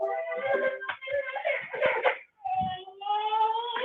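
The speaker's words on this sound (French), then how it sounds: "on va entendre ma fille pleurer à la place" A young daughter crying at home, a child's wailing sobs rising and breaking in uneven bursts, fairly close, with a brief pause midway.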